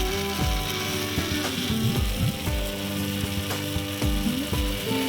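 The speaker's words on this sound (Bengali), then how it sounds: "না না, আগে একটু শুকনো বেটে নিই" An electric mixer grinder dry-grinds spices in a home kitchen, its motor whining with repeated rattling, clattering bursts as the jar contents tumble, loud and continuous with no talk.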